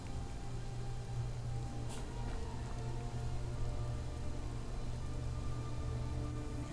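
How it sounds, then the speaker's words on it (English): Rain pours at night in a modded Skyrim city, a continuous even patter of drops on surfaces under a low ambient hum, with no voices. "And here it's night again, and you can see it's raining."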